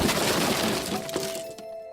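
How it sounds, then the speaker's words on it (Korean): Discarded furniture being smashed apart with a crowbar and hammer: a run of loud, close crashing and splintering impacts that break off and fade into a quieter tail. "어차피 버리는 가구들이었기에 빠루나 해머를 들고 박살을 냈어."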